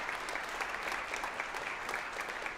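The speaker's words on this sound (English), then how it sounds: "Can we just give a shout out, a round of applause" Audience at a beginner and second-year honor band festival breaks into sustained applause, dense clapping filling the hall evenly and without pause.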